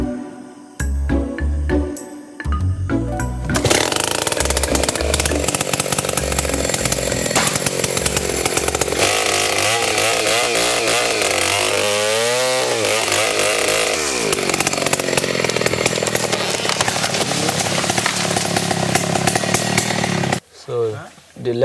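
Loud chainsaw cutting wood by a logger in Nigeria, a steady high-pitched whine with pitch dips as the chain bites, running almost continuously for about twenty seconds after a few short revs, with no one speaking.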